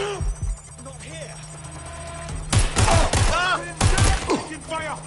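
Gunfire in the action game Watch Dogs: Legion, two clusters of rapid sharp shots bursting out mid-clip over a steady electronic hum and chirping tones, with a voice talking underneath.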